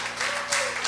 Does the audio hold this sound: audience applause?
yes